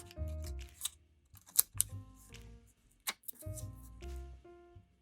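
Crisp paper crinkles, creases and rustles from a dollar bill being folded into an origami peacock, with several sharp snaps among quieter handling, close and alone.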